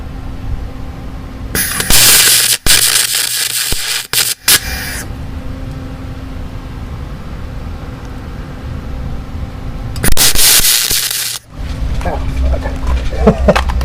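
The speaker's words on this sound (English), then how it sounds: "do a quick little beat and see what happens. I have it kind of on high heat right now, so it might put a hole through the aluminum." A Lincoln 3200HD MIG welder with an aluminum kit, set on high heat, lays a bead on aluminum. Two close, loud bursts of harsh crackling sizzle are heard, separated by a stretch of quieter hum. Talk follows near the end.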